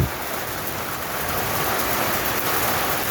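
Rain pours down in Tocoa, Honduras, a constant loud wash of drops hitting surfaces that holds steady from start to finish, with no voices.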